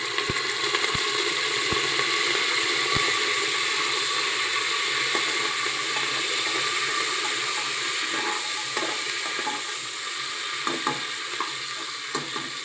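Green chillies and curry leaves sizzle and crackle steadily in hot oil in a pan, a close, continuous frying hiss with occasional sharp pops and clinks of stirring throughout.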